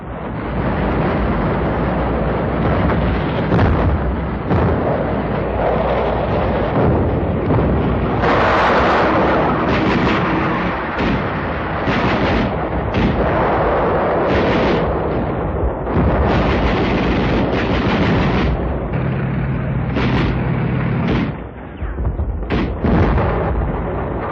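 WWII naval barrage during the invasion of Saipan, loud continuous booming artillery fire and explosions with repeated bursts and heavy rumble filling the whole stretch, no talk.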